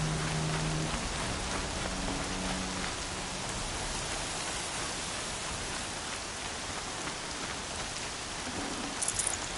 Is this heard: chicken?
no